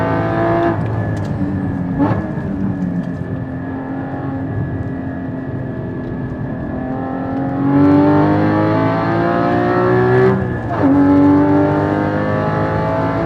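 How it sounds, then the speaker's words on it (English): A Porsche 981 GT4 fitted with long tube headers revs hard on track, a loud, raspy engine note climbing and falling through gear changes, with brief dips as it shifts before pulling again. "the first time I put these long tube headers on and I drove, they sound absolutely bananas, bonkers."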